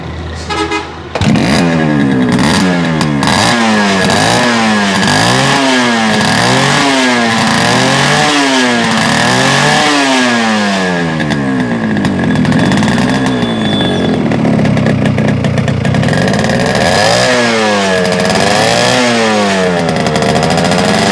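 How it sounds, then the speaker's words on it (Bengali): Yamaha RX115 Japanese two-stroke motorcycle engine revving loudly and close, repeated rising and falling throttle blips over a steady idle for about twenty seconds, with no talk. "ইঞ্জিনের সাউন্ড শোনান ভাই"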